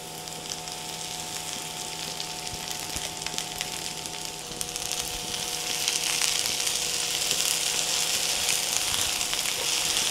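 Tender okra goes into hot oil with browning onions and ground coriander over a high flame, making a continuous sizzle that swells louder partway through, with no one talking.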